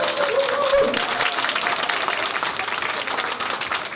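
Applause from a conference audience in Gwangsan-gu, Gwangju: a dense, steady wash of many hands clapping that holds for the whole stretch, close and full.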